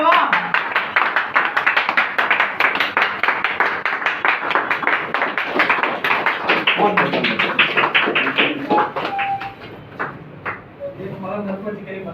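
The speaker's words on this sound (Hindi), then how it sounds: "जोरदार ताली बजा दो बाबा।" A seminar audience claps loudly, a dense, sustained burst of many hands close up that gradually thins out and fades, with a voice speaking as the applause ends.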